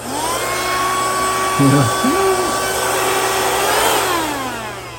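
An Ionvac Power Max portable vacuum cleaner runs close by with a loud, steady whine whose pitch shifts slightly near the end, while a voice briefly speaks over it.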